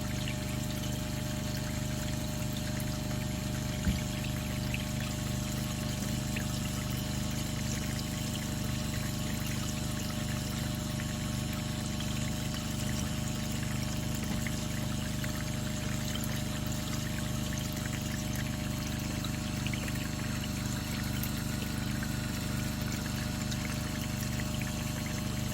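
Water pours and rushes steadily through a VDR mat vortex sluice during a gold cleanout of black sand, with a pump-like hum underneath; a continuous, even flow with no voices.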